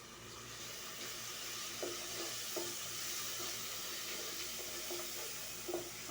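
Onion frying slowly in a pan with ginger-garlic paste just added, a steady soft sizzle with a few light stirring clinks, close and alone with no talking.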